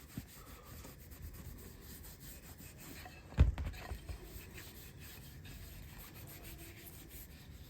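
Wood conditioner is hand-rubbed into a poplar board, giving a faint, steady scratchy rubbing with one brief knock partway through.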